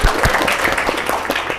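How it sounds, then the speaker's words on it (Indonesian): Participants at an Indonesian policy discussion on artificial intelligence and talent management applaud together. The brief, fairly close clapping has a few low thumps near the start. "Tepuk tangan dulu untuk kita semua."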